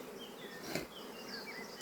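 A dense, steady buzzing of many honey bees up close in a hive, a continuous humming drone with individual wingbeats rising and falling over it.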